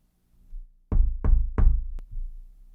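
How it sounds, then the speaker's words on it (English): Knuckles rap on the door of a brick house three times in a steady rhythm, loud and close, followed by a brief sharp tap and a quieter thud. "I knocked on the brick house."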